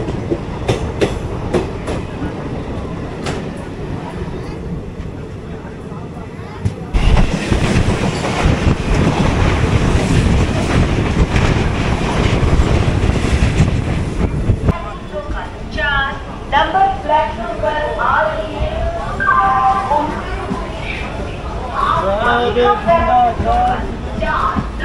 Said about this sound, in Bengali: ট্রেন এখানে দাঁড়াবে না, থ্রু গতিতে বেরিয়ে যাচ্ছে